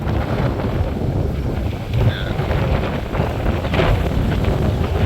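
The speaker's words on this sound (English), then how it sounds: "As the wind picks up, this is the first real lock I've seen." Steady wind buffeting the microphone outdoors near a canal lock, a loud continuous roar with slight swells and no talk.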